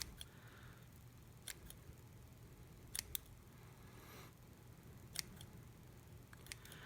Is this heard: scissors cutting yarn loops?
yes